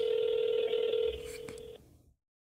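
Outgoing call tone from a phone in the mobile game Grand Summoners, a sustained electronic ringback that carries on for about two seconds before cutting off, with no other sounds over it.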